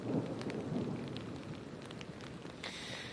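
A thunderstorm over the town of Pefki on the island of Evia, Greece: steady rain patters on surfaces while low thunder rumbles through, heaviest at the start, with no voices.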